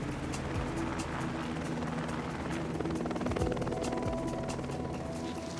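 A helicopter's rotor thumps in a fast, steady rhythm with engine whine, fairly close and loud throughout.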